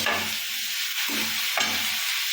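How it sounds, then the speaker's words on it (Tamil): Tomatoes sauté in a hot pan for crab gravy, giving a steady close sizzle with a few scraping stirs of a spoon against the pan. "தக்காளி போட்டுடுவோம். வதங்கட்டும்"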